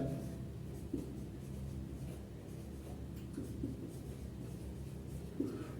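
Pen writing out a math solution on paper, a faint, soft scratching that goes on steadily in a quiet room, with a few light taps along the way.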